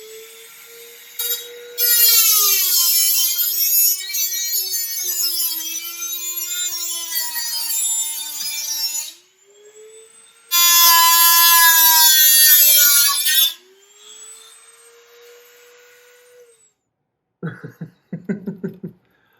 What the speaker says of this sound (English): I'm going to start with the Dremel, and I have my cutting blade on there, and I'm just going to cut this thing out